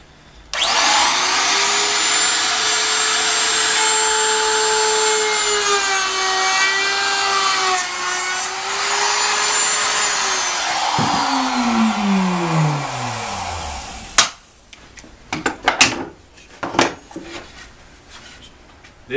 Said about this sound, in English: Now he's going to use the router bit to just plow out the end of it